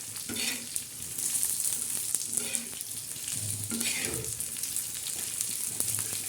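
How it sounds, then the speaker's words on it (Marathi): Coriander seeds and spices dry-roast in a pan, with repeated scraping stirs over a soft, close sizzle in an uneven rhythm. "या पद्धतीने मसाला असा भाजायचा असे धने चांगले लालसर होऊन जायचे"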